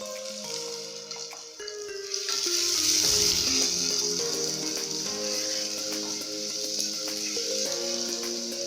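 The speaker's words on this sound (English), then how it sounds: "onions are cooking for like 2 minutes" Onions frying in a sufuria for a sukuma wiki and carrots dish give a steady hiss, mostly buried under louder melodic background music for the whole stretch.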